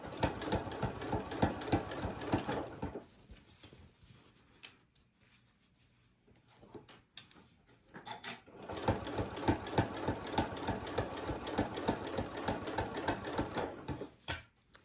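Domestic sewing machine running slowly at reduced stitch speed: steady rapid mechanical chatter for about three seconds, a quiet pause with faint handling noises, then a longer stretch of the same even stitching, close and clear with no talk.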